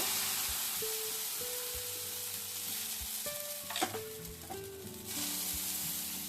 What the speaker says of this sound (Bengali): এবারে আমি এখান থেকে বেটার নিয়ে 1 চামচ ঢেলে দেব।